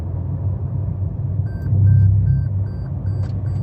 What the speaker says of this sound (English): It doesn't fully return you to the lane, but it beeps.